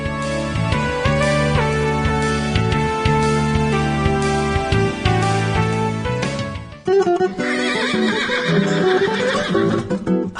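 Horse whinnying inside a Brazilian gaúcho radio advertisement, the neigh set loud over music that keeps playing throughout, with a brief break and shift in the mix partway through.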